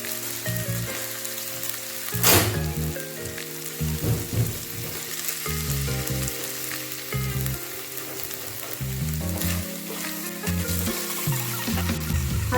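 Tomatoes fry in a pan for Assamese-style chicken, giving a continuous close sizzle broken by scraping stirs, with no voice over it.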